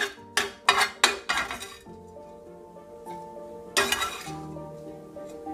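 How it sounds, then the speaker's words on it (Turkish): A spoon scrapes and clinks against a pan while sauce and ingredients are stirred for a meze dish with thyme and fried mushrooms. Sharp metallic knocks come in a quick burst, then a softer stir and one more clatter. "Sosunu, malzemesini karıştırıyoruz."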